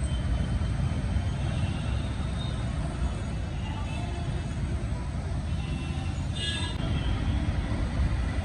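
Ananthapuri Express passenger train running between Thiruvananthapuram and Chennai at night, a steady broadband rumble and rushing roar heard from on board, continuous and loud with no distinct breaks.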